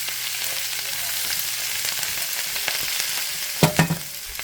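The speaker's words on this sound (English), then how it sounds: "I'm going to go ahead and stir it around just a little bit." Food sizzles steadily in a pan on low heat, a close, even hiss, with a couple of scraping stirs near the end and no talking.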